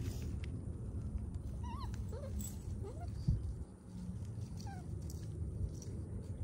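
A boxer puppy whimpers with several faint, high, rising and falling whines scattered over a steady, noisy background.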